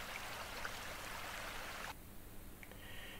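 Swollen forest streams flow in a faint, steady rush of water, the hiss dropping a little partway through.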